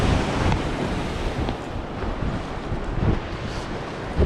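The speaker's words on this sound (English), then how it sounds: "That water's just kicking and splashing." Lake water waves kicking and splashing at Fairport Harbor, Ohio, near the lighthouse; rough surf washing in uneven surges under heavy wind buffeting the microphone, no voices.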